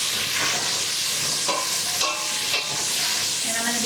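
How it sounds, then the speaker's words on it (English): Vegetables sauteing in bacon fat in a pan, a steady close sizzle and hiss with occasional stirring scrapes, no talking. "I'm going to saute that in."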